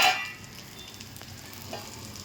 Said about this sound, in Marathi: इथे फिश फ्राय होते.